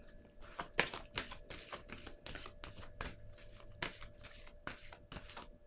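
A deck of cards being shuffled repeatedly, a steady series of crisp riffling bursts at close range, fairly quiet, with no talking.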